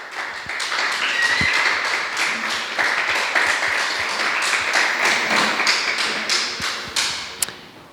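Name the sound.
applause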